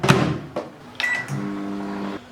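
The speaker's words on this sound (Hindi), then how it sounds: "अभी हम इसे माइक्रोवेव में अनकवर्ड लास्ट 3 मिनट तक पकाएंगे" Microwave oven running uncovered with a dish of spicy veg pulao inside, a steady close hum with a few clicks and a brief tone near the start, no voices.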